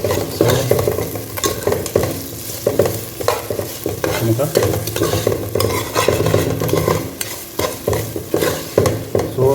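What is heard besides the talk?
stirring onions, tomatoes and salt frying for fish curry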